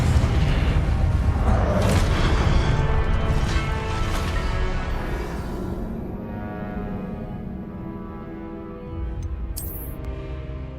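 A Confringo blasting spell goes off in a video game, a loud, dense explosive roar that rumbles on and slowly fades over several seconds before a brief bright ring near the end.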